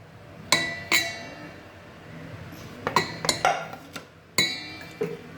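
A metal utensil clinks and scrapes against a pot while layered rice pulao is mixed, with a few sharp knocks spaced irregularly over quieter stirring, close and moderately loud.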